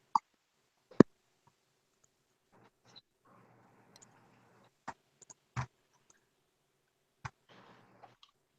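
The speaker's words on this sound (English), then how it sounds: "I'm just like typing a recap in the blog." Keys clicking on a computer keyboard while a recap is typed: quiet, scattered single taps and short clusters with long pauses between, close and alone with no talk.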